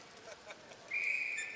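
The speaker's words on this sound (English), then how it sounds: "And we have a whistle." A referee's whistle at a power hockey tournament third-place game, one sustained shrill blast arriving midway and held to the end over arena noise, plainly louder than the murmur before it.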